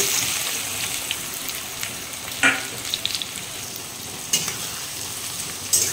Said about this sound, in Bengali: পেঁয়াজটা এখন একটু ব্রাউন করে ভাজবো, হালকা ব্রাউন।